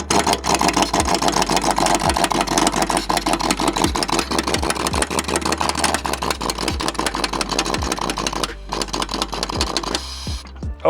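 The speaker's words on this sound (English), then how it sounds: "That sounds when my compressor runs out of air." An air compressor runs loudly nearby with a rapid, pulsing mechanical chug that holds steady, then stutters and cuts out near the end.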